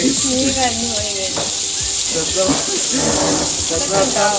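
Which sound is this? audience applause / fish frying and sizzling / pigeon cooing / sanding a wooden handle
fish frying and sizzling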